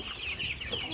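Cornish Cross meat chickens cluck softly in a steady, close murmur of overlapping, slightly nasal calls in an outdoor pasture, with no voices.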